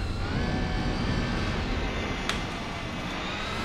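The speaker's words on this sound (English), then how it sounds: "the sound of this car, also not too bad" A car engine in the racing game Gran Turismo 4 drones steadily at high revs, a dense buzzing hum with faint tonal whine that holds level throughout, with no talking.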